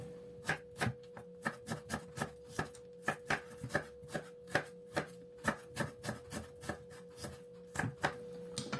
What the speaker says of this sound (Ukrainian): Спочатку нарізаю цибулю